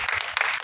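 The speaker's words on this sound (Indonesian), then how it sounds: "Boleh minta tepuk tangannya dulu untuk Pak Rukman Rosadi." Brief, dense applause from a press conference audience honoring Pak Rukman Rosadi, a steady wash of many hands clapping heard at moderate level with no talk.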